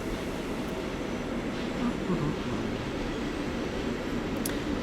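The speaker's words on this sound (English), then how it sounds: "I hope you can still hear me okay with the train going by" A train passing nearby outdoors, a continuous broad low rumble and roar that holds steady throughout, with faint voice traces underneath.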